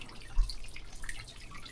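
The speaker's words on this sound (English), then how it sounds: "Check out the water that's coming out of the mountain." Water seeping out of a rock wall in a mountainside near Lake Powell, heard as faint, scattered drips and trickles with one soft thud near the start, quiet and close with no talking.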